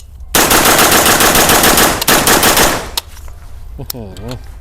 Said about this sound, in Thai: ขอลองยิง เร็วอีกสักชุดหนึ่งนะฮะอยากรู้ว่า ปืนที่จูนมาแบบเนี้ยมันจะยิงได้เร็วสักแค่ไหนนะครับ